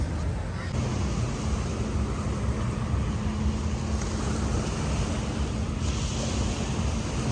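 Night surf rolls onto Ao Nang beach in Krabi as a dense, continuous wash of waves under heavy, steady wind buffeting the microphone, with no breaks throughout.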